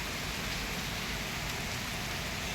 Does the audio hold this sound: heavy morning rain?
yes